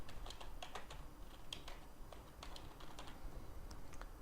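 Someone types a component name on a computer keyboard, with quick, irregular clicky keystrokes close by in a quiet room, heard alone without talk.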